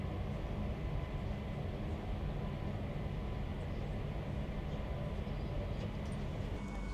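Diesel double-decker regional train running at its 140 km/h top speed, heard from inside the carriage as a steady, loud, continuous rumble and wheel roar with no talk.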